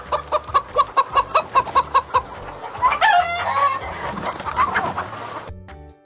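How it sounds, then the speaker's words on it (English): A chicken clucking loudly and close by in a rapid, regular series of short clucks, then breaking into a longer, rising squawk before stopping abruptly. "chicken."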